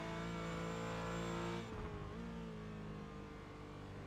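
Porsche race car in a racing video game on the Nordschleife, engine droning loud and steady with a harmonic tone that drops as the car lifts off and then holds a lower, rougher pitch, no voices.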